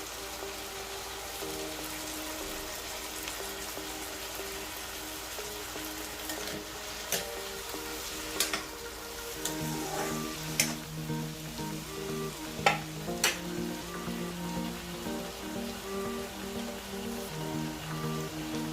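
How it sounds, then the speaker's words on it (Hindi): Food seasoned with salt and chilli fries in a pan with a low, continuous sizzle and scattered sharper crackles and pops, heard at moderate distance over a faint tonal background. "तो बस इसको थोड़ा सा हम फ्राई कर लेंगे"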